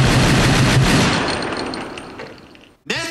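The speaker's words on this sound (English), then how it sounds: "Let's give him some gunshots real quick, please." Gunshot sound effects play during a podcast: a loud, close volley of gunfire that fades over about two seconds, then breaks off briefly before a short, different sound.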